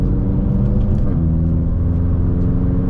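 Tuned 800HP Stage 2 BMW M6 engine pulling hard, a loud, steady, close-up roar with deep harmonic drone that shifts slightly in pitch midway, unbroken by any voices.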